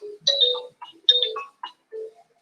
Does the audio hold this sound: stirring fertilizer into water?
no